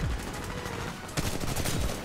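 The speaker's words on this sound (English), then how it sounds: "Who's shooting at me?" Gunfire in the Titanfall 2 video game: rapid, dense bursts of shots crackling almost continuously across the clip, loud and close, with a sharper burst partway through.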